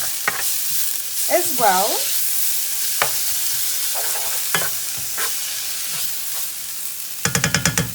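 Jalapeno pepper and chopped garlic cook in a pan for a paneer curry, a continuous close sizzle with occasional stirring clinks and a short burst of rapid tapping at the end; a voice speaks briefly.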